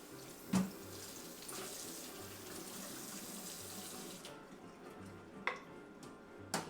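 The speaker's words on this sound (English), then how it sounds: "I'm gonna do a quick rinse of this." Tap water runs steadily into a sink as a cup is rinsed in a kitchen while cooking salmon and green beans, with a few sharp clinks near the start and end, alone without voices.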